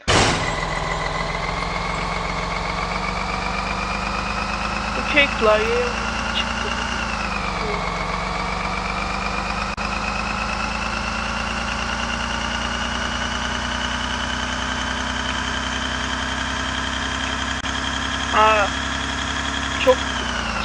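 A bus engine in a Turkish election-themed driving video game hums at a steady idle-like drone throughout, with a pitch dip partway, while a person talks faintly over it.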